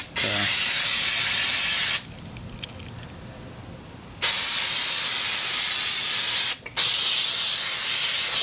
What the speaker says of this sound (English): We're gonna go ahead and spray that a little bit and see what we can get off of these calipers.